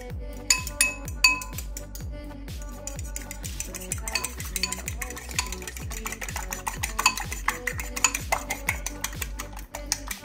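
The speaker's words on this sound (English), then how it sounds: "Whisk them up real well." Eggs whisked briskly in a bowl, a fast steady rhythm of clinking metal-on-bowl strokes, close and fairly quiet.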